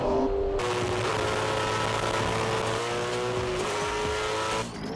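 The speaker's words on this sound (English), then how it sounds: "aryl has had to prove himself to a team, but this is only his second ever drive in a V8" A V8 Supercar race car drives on track in tough conditions, its engine roaring loud and steady with rising pitch through the gears, passing close before trailing off at the end.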